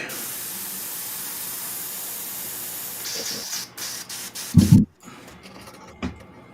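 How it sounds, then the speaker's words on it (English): An airbrush being cleaned out, giving a steady broadband spray hiss for about three seconds, then broken short bursts and a louder puff before it fades to quiet. "that's what I'm doing, cleaning out my airbrush real quick."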